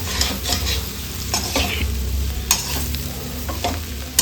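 Coorg-style chilli pork with onion, capsicum and spice powder being stirred in a sizzling pan, a constant frying hiss broken by scraping spoon strokes and sharp clinks against the metal, heard up close without talk.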